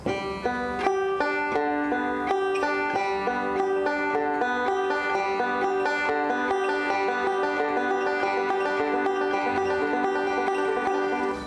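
A banjo plays a bright, twangy melody alone, the notes starting slowly and steadily gaining speed.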